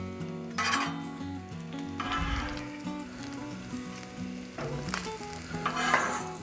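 Onions and bacon sizzle steadily on a Blackstone griddle, a close, crackling fry broken by the scrape and clatter of a spatula stirring and sliding the food across the hot steel.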